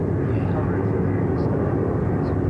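During a D-Day paradrop, a military transport plane drones overhead in a continuous loud, low roar that stays steady throughout.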